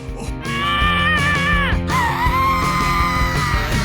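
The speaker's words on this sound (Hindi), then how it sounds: "वह इस तरह से चिल्ला रही है।" A woman lets out long, loud, wavering screams of fright, close and sustained with a brief break midway, over a busy, steady music track.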